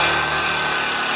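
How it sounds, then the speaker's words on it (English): A power drill bores through a metal trailer frame and 4x4 lumber, a loud, continuous, harsh whine close up with no pauses. "I started by drilling through the metal frame and through the 4x4s"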